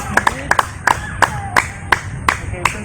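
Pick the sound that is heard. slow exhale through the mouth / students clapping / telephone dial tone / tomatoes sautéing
students clapping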